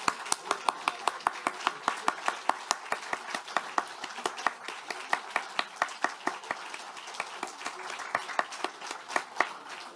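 Lawmakers clapping during a photo session, a brisk scattered round of individual handclaps, fairly faint and continuing at a steady pace throughout.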